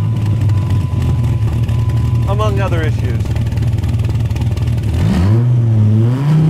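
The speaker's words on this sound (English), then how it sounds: "I'm not sure if you're gonna be able to hear me over this exhaust, which I imagine is straight piped" A third-generation Dodge Viper V10 with a loud, straight-piped exhaust drones steadily from inside the car, rising in a rev partway through and again near the end, while someone talks under the constant engine noise.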